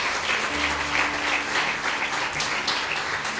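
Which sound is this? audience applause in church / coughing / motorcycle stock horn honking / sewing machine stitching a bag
audience applause in church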